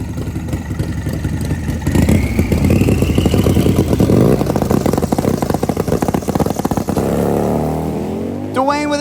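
Turbocharged Harley-Davidson motorcycles launching side by side in a drag race final, a loud sustained engine roar with rising revs and crackling exhaust, heard over an announcer's commentary.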